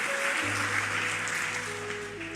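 Church congregation claps together during a sermon, a soft, steady wash of applause over sustained keyboard chords and a low bass note.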